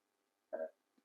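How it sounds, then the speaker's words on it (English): A single short, close burp from a woman in a quiet room, a brief throaty eruption with no talk around it. "excuse me, I had to burp"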